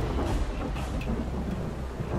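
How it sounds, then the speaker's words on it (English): Steady heavy rain with a low thunder rumble in the video game Dying Light, dense and continuous throughout with no talking. "There's thunder, there's lightning."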